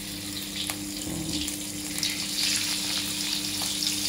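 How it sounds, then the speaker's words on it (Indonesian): Pekasam lais fish, a fermented catfish, frying in hot oil in a home kitchen, giving a steady close sizzle and crackle that holds throughout with no talking. "kita terus gorengkan ikan dia"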